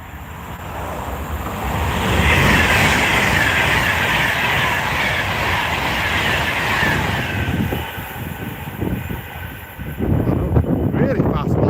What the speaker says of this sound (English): Another Pendolino.